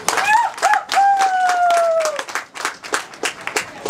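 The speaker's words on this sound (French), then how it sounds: "Applaudissons pour elle, s'il vous plaît." Rhythmic clapping from an audience at a French-speaking ceremony, fairly close and lively, with high wavering cries over the start before the claps settle into steady beats.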